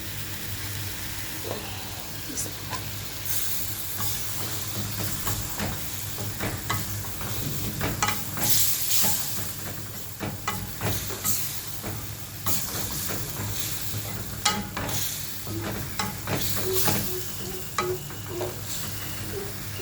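Shrimp fries in a pan of spiced masala, sizzling and hissing steadily while a spatula scrapes and stirs in frequent, irregular knocks, close and prominent with a low hum underneath.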